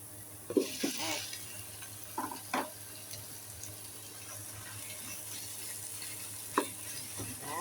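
Chicken pieces going into a pan and frying with bitter gourd, a low steady sizzle broken by a few sharp clinks and stirring knocks, quiet and with no talk.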